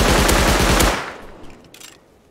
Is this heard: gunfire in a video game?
yes